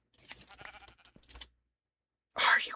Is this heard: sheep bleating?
yes